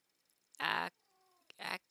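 A cat lets out two loud meows, a long harmonic call and then a shorter one after a brief pause, close to the listener and with no talking over them.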